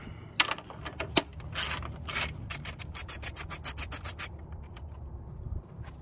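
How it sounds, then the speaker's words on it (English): A 10 mm socket and ratchet work on radiator fan bolts of a 2003-2007 Honda Accord V6, giving quiet scraping, rubbing and rapid ratcheting clicks in short bursts, near and fairly faint. "So I took the two top bolts off of the fan."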